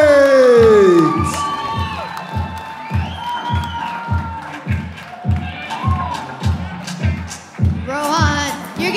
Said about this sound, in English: you're getting so much love from the crowd right now